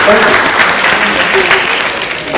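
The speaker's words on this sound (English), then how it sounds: "No, you can clap." At a school Kwanzaa program put on by SUNO and McDonogh 35, an audience claps loudly and close, a thick continuous patter of hands with a voice faintly mixed in.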